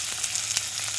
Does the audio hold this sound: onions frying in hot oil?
yes